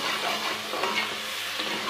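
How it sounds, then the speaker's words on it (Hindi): Masala being roasted in ghee on a slow flame for achari kadhi pakoda, a steady close sizzle and frying hiss with occasional stirring scrapes, continuous and fairly loud with no voices. "तो मसाला हम भून लेते हैं अच्छा सा 3 से 4 मिनट"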